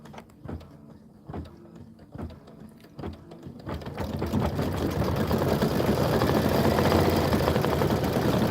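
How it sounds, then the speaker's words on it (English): A sewing machine stitches continuously on a table-top display project, a steady mechanical whir that builds after a few separate short bursts and then runs loud and even to the end. "This is 2 minutes of stitching."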